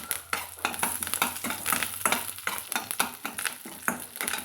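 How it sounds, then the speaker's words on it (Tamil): A whole sprig of curry leaves with a dried red chili crackles and spits in hot oil for a pirandai chutney, dense bursting sizzle in quick uneven pops, close and loud, with light stirring, no talk. "முழுசாக அப்படியே போடுறேங்க ஒரு கொத்து கருவேப்பிலைங்க"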